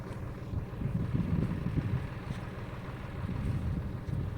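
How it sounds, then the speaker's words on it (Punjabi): Two tractors, one an 855, work a field with a low, continuous engine rumble from a middle distance, mixed with wind buffeting the microphone. "ਦੋ ਟਰੈਕਟਰ ਲੱਗੇ ਹੋਏ ਜੀ ਆਪਣੇ ਇੱਕ 855 ਦੋਨੇ ਦੀਪੂ ਦੇ ਫਰੈਂਡਾਂ ਦੇ ਆ"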